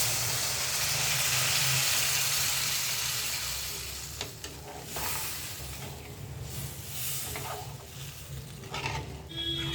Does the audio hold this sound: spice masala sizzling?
yes